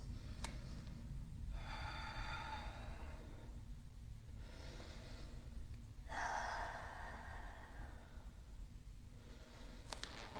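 A person doing beginner yoga takes slow, deep breaths, two long airy inhales and exhales clearly audible against a quiet room hum.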